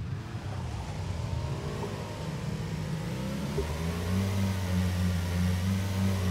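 Motorcycle engine in the video game PUBG, a steady mid-pitched drone that rises in pitch and strengthens toward the end as the bike accelerates, heard alone without talk.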